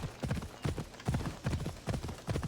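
A horse ridden at speed in Assassin's Creed Odyssey, its hooves thudding in a steady galloping rhythm of repeated heavy beats, close and clear, with no talk over them.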